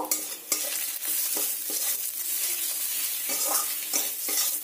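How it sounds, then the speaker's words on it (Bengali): Spices with Kashmiri chilli powder frying in a pan, a steady close sizzle with repeated scraping stir strokes of a spoon and occasional louder scrapes, no voices. "সব মশলাগুলো খুব ভালো করে কষিয়ে নেব"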